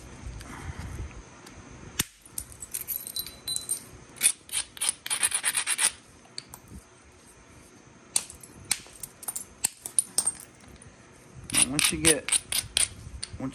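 Sonora chert is smoothed by hand with irregular bursts of gritty rubbing and scraping, interrupted by sharp clicks and pauses, close and fairly quiet.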